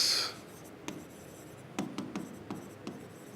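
Pen writing on paper during a Class 11 accounting lesson on a bank reconciliation statement, a few short scratchy strokes spaced out over a quiet room, close and fairly soft, with no talking.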